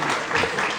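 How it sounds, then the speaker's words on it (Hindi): A brief burst of audience applause at an awards ceremony in a hotel hall in Hyderabad, Sindh: dense, steady clapping from a crowd, heard alone for under a second. "तालियां।"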